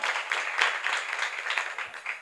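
An audience at a kirtan program claps together, a brisk, even patter of many hands that stays fairly steady for the whole stretch, moderately loud and free of speech.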